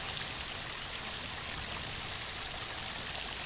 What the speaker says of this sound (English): this is the waterfall that Walter mentioned